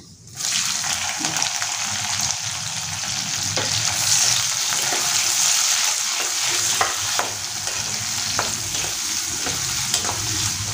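Finely chopped onion frying in oil with cumin seeds and a dried red chilli, a loud continuous sizzle that starts abruptly, with repeated scraping stirs against the pan along the way.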